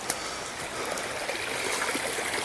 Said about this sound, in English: here's the little creek behind my house.